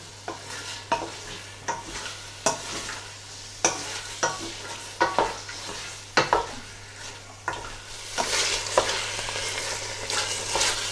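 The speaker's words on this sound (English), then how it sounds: "If you just give it a stir in a way that you don't break paneer, it gets done with the spinach very quickly." Spinach and paneer frying in a pan while being stirred, with a steady sizzle and repeated scraping strokes of the spoon against the pan, close and clear with no talking.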